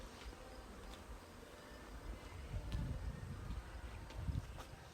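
Honey bees from freshly extracted honey boxes buzz faintly outdoors in a home bee yard. The buzzing forms a low, steady, soft hum, with a few louder passes and light background noise.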